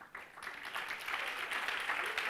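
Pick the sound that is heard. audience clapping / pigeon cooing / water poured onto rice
audience clapping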